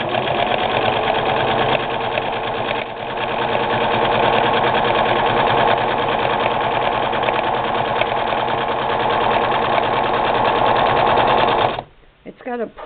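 A Singer 6212C sewing machine stitches steadily with a fast, even mechanical whir and needle chatter that runs for about twelve seconds, then stops abruptly, leaving a few faint clunks.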